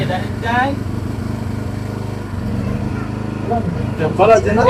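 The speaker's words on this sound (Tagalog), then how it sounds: "Umandar na ang generator." A generator engine runs steadily outdoors at a campsite with a constant low droning hum and mild fluctuations, while people talk over it in Filipino.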